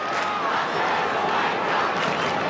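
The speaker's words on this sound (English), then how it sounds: "Good crowd in a Telstra Dome." A large football crowd roars steadily at the Telstra Dome during a 2003 AFL match between Carlton and the Kangaroos, a dense, sustained wash of cheering throughout.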